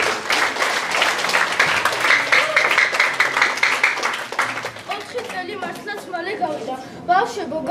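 Loud, dense applause from a crowd at a 4th-grade class graduation at School No. 6 fills the first few seconds, then fades as a voice begins speaking.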